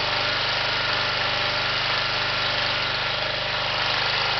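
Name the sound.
generator engine running on a gasifier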